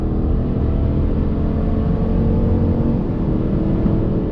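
A 2021 Chevrolet Tahoe Z71 with a V8 and 10-speed transmission accelerates on throttle, a steady low engine drone heard from inside the cabin, continuous and fairly loud throughout.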